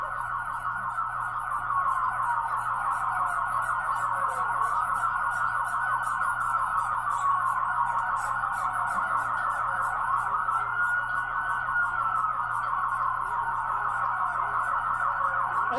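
Emergency vehicle sirens wail continuously at a street protest, a loud, piercing, sweeping tone that rises and falls steadily throughout, with no talking.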